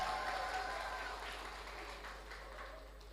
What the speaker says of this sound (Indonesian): Kemudian Kaprodi Psikologi Dr. Itria, tepuk tangan untuk beliau